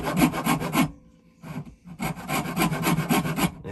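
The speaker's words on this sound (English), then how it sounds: "I'll find my angle, my 10 degrees, and I'll just start sawing" Hand saw cutting a wooden dovetail at a 10-degree angle: rhythmic rasping back-and-forth strokes, close and loud, with a brief pause midway before steady sawing resumes.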